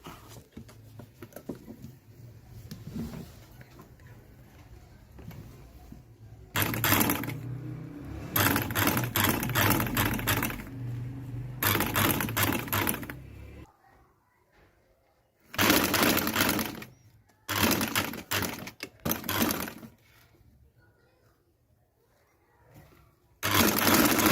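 Bursts of sewing machine stitching along a garment neckline with a half-side presser foot, several loud runs of a few seconds each separated by pauses and quieter handling.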